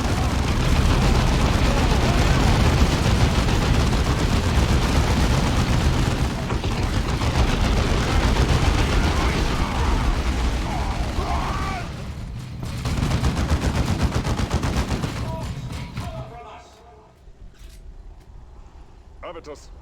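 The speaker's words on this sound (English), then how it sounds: "Our heavy bolters are deadly, but they take time to set up and have a limited field of fire." Heavy bolter fire from Dawn of War 2 forms a dense, continuous barrage of rapid booming shots that lasts most of the time, with a voice talking over it, then thins out into scattered bursts.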